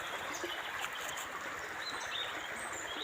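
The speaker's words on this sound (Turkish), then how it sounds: "kuş sesleri, su sesi içerisinde mükemmel bir manzara" A steady stream of flowing water babbles throughout a canyon in Turkey's Kaz Mountains, with faint bird chirps and calls scattered above it in the distance.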